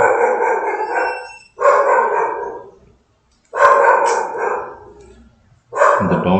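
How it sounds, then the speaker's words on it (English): A dog barks and howls nearby in four long, loud drawn-out bouts separated by short pauses, heard alone without talk. "the dog is barking."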